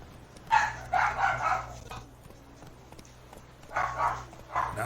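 A dog in the video game Witcher 3 barks at the player in two short bursts of several sharp barks, separated by a quieter gap with a low steady hum underneath.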